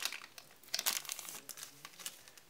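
Foil wrapper of a Pokémon Noir & Blanc booster pack crinkled and torn open by hand, close and quiet, with irregular crackling bursts over a couple of seconds.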